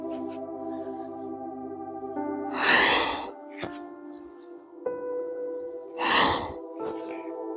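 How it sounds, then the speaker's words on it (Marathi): Deep breaths in and out during a morning yoga session: two long, loud whooshing breaths and a few shorter puffs over sustained soft background music. "श्वास घ्या श्वास सोडा"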